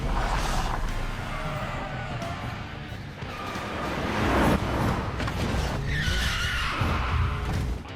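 A car swings through a quick U-turn into a mall parking lot, with loud continuous engine roar and road noise, and a rising squeal of tires near the end.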